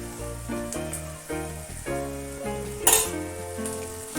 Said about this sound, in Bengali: আদাটা ভেজে নিচ্ছি